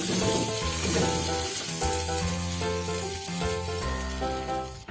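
Loud, continuous sizzling of tempering spices frying in hot oil for egg pakoda kadhi, with background music playing throughout.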